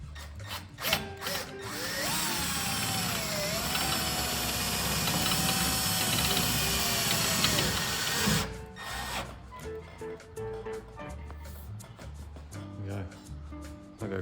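A power drill drives screws while fitting an S+S anodised black multirail, its motor whine rising and holding loud and steady for several seconds before stopping, with someone talking in short bursts around it.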